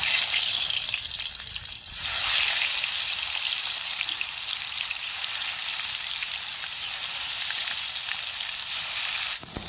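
Boal fish frying in mustard oil in a pan, a steady loud sizzle with bright crackling spatter running throughout, briefly dipping near the start and end.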